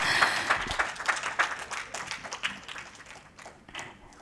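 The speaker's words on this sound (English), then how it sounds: "give them a big, big round of applause" An audience at a traditional and alternative medicine conference claps for a certificate presentation, with sharp individual claps that gradually thin out and fade toward the end.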